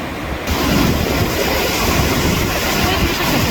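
Ocean surf breaking at a beach in Mazatlán, Sinaloa, Mexico, a loud continuous roar of waves with wind buffeting the microphone throughout.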